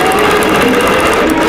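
Sewing machine stitching a quilted Christmas tree skirt, a steady continuous whirring hum holding at a constant loud level from start to finish with no talking.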